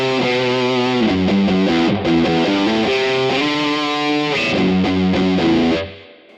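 Electric guitar through a heavily distorted sludge amp setting on Genome 1.8 software, thick saturated chords and sustained notes played in a short riff, ringing out with reverb before cutting off.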